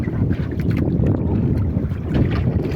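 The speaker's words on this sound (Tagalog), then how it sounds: "Diyan kusog ang hangin." Strong wind buffets the microphone in a loud, continuous low roar, gusting unevenly amid the sounds of a fishing boat on open water.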